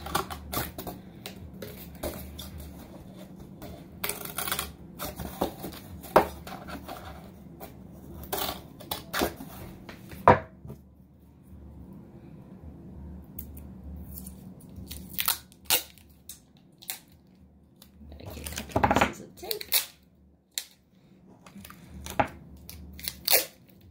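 Cardboard shipping boxes for carded toy cars being cut, with close crisp snips and crunching tears in irregular bursts separated by quieter handling, and no talk.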